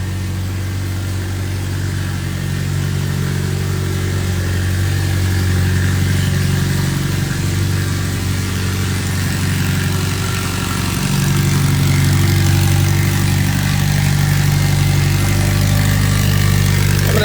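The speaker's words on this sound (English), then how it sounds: "I know the car running in the background is pretty loud." A car engine runs and idles nearby at a performance tuning event, a loud steady low rumble with slight swells in level, continuous throughout with no talk over it.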